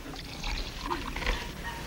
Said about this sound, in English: Then he poured in some water.